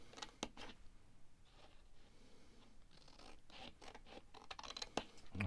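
Scissors cut along scored lines in a sheet of card for a paper-craft collar front, giving quiet, scratchy snipping and scraping strokes in an irregular rhythm with no voices.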